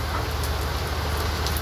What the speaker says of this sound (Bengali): বাইরে কি সুন্দর বৃষ্টি পড়তেছে